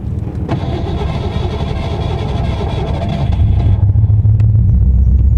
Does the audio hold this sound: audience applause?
no